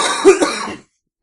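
A single harsh cough, close and loud, followed by a short silence.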